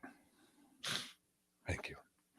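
Two quick sneezes, the second broken into a short double burst, come in a studio over a low background with breathy sounds between them.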